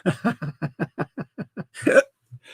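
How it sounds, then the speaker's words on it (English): A man hiccups nine times in a quick, regular series of short voiced jolts, then lets out a louder laughing burst, all close and clear. "I gave myself the hiccups again."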